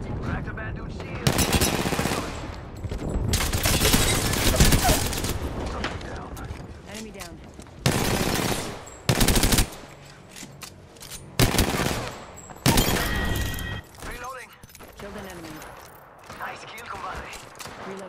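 Apex Legends gunfire erupts in heavy sustained automatic bursts and separate sharp volleys, loud and close, with gaps between exchanges and voices calling out during the fight.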